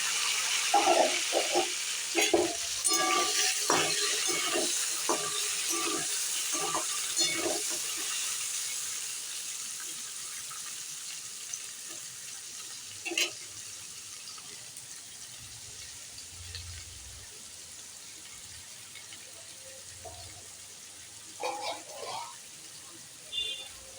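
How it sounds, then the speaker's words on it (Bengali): Potatoes and jackfruit sizzle in hot mustard oil in a kadai, a steady hiss loudest at the start and fading over time, with scattered clatters and someone talking intermittently. "কড়াতে সর্ষের তেল দিয়েছি, তেলটা গরম হয়ে গেছে। এবার আলুটা আর এঁচোড়টা ভেজে নেব হালকা করে।"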